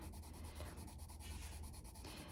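A colored pencil writes on paper in quick, close scratchy strokes, a soft rhythmic rubbing with brief pauses, faint and without talk.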